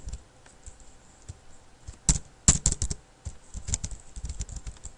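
Rapid keystrokes on a computer keyboard while HTML code is typed, close and clear, with a dense burst of clacks in the middle and lighter irregular taps around it.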